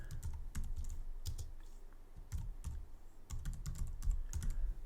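Keys on a computer keyboard typed in irregular bursts of clicks while a Shopify store name is edited, close and moderately loud, with short pauses between runs and no talk.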